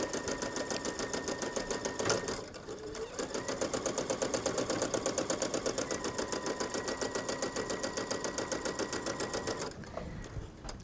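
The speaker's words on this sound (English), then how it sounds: "I'm stitching on the twill, or not on the twill, on the tulle" An embroidery sewing machine stitches lace onto tulle with a steady, rapid mechanical chatter. The stitching pauses briefly near the start and again near the end, and no voice is heard.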